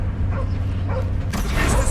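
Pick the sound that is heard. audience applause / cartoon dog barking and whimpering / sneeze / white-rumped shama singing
cartoon dog barking and whimpering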